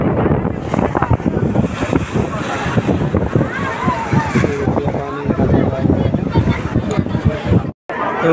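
Sea waves and strong wind along the causeway at Haji Ali Dargah in Mumbai, with water splashing up over the edge; a steady, loud rushing wash with wind buffeting the microphone and a brief dropout near the end.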